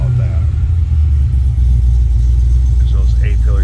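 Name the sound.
2006 Cadillac CTS-V sedan engine running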